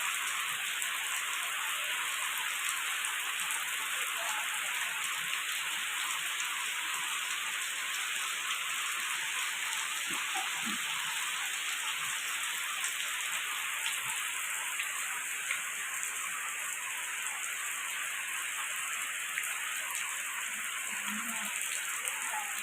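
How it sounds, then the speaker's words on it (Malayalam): Rain falls steadily outdoors at a house at the start of the rainy season, a continuous even hiss of drops on surfaces with no break or swell, and no voices. "ആദ്യത്തെ മഴ തുടങ്ങി."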